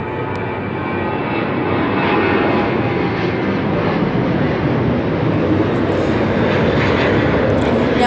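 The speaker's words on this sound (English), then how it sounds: "there's a plane" A fixed-wing airplane passes overhead, a steady, loud, broadband engine roar that holds throughout without fading in or out.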